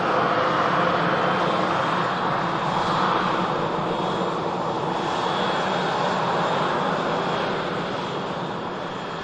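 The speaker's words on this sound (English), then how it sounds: "EasyJet Europe just coming in there as well" An EasyJet Europe airliner arriving at Manchester Airport gives a steady, loud jet roar with a broad whine that holds throughout and eases off slightly toward the end.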